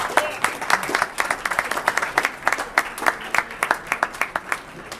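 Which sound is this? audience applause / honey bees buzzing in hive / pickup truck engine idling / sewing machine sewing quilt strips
audience applause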